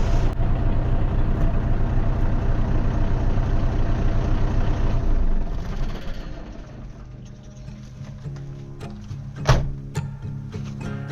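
Truck engine idling at an off-grid campsite to charge house batteries, a loud, steady low rumble for about five seconds that then drops to a quieter hum with clicks and a sharp knock near the end.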